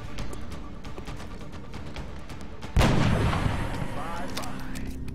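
A single loud gunshot in the XCOM: Long War video game cracks out partway through, ringing and decaying slowly over faint background sound and game ambience.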